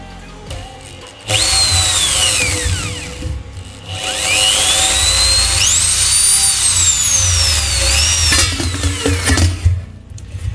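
A power drill bores holes into a metal cooking pot, whining loud and close with rising and falling pitch as it bites and slips, pausing briefly between runs.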